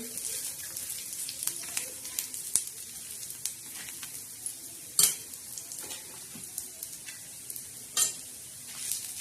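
Black masala spice mix dry-roasting in a pan, a faint, steady hiss with scraping stirs and a few sharp clinks of a spoon against metal, heard close up.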